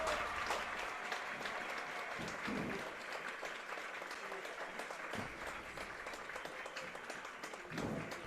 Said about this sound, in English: He is up as the crowd gives out a cheer